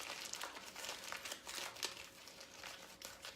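Aluminium foil crinkles and crumples steadily as it is folded and tented into a cooking packet, with repeated sharp rustling bursts close up and no talking.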